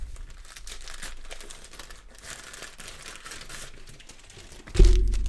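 A mail package of soccer cards is torn open by hand, steady crinkling and rustling of paper and plastic wrap up close, ending in a louder thump.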